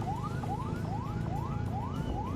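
An ambulance siren wails in a rapid repeating rising sweep, about six cycles, loud and steady over a low rumbling road background heard from a scooter.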